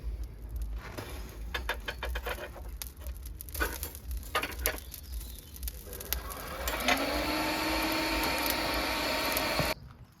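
Blacksmith forge heating a piece of scrap round bar, a steady roaring blast rising to a louder, constant whoosh for the final few seconds, preceded by scattered taps and clatter of workshop handling.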